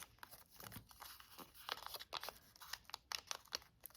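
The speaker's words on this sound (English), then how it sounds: "we will fold these triangles down" Paper being folded into an origami crane, with quiet close crinkles and soft creasing rustles coming in irregular bursts.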